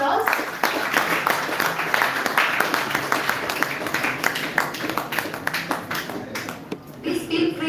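A crowd at the YUGMA 2025 event claps as participants and academicians are invited on stage, sustained applause with distinct sharp claps that thin out toward the end, a voice faintly heard beneath.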